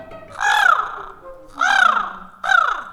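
Crow cawing, used as a sound effect in a spoken story: three loud, harsh caws spaced about a second apart, each ringing clear and close with no voices over them.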